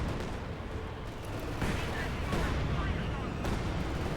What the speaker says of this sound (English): we got artillery called in this time around